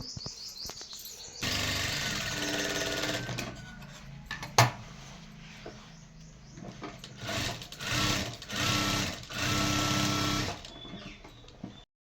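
A sewing machine stitches straight seams on handbag fabric, whirring steadily in several long runs separated by short pauses, with a sharp click partway through and faint chirping in the background.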